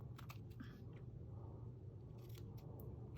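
Scissors snip a paper tag during a craft decorating session, giving a few short, quiet crisp cuts over a steady low background hum.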